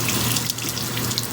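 Tap water runs steadily into a sink while makeup brushes are rinsed, a brief close splashing rush.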